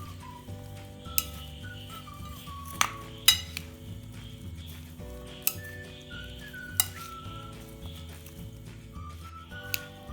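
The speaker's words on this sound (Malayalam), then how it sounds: "ഒരു ചെറുനാരങ്ങയുടെ നീര്, എന്നിവയെല്ലാം ചേർത്ത് നന്നായി യോജിപ്പിച്ചെടുക്കുക" A chicken kebab marinade with lemon juice is mixed in a bowl: a soft stirring scrape with scattered spoon-on-bowl clinks, under quiet background music.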